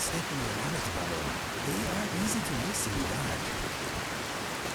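Steady rain falls in Skyrim, a dense, constant hiss filling the scene while someone speaks over it.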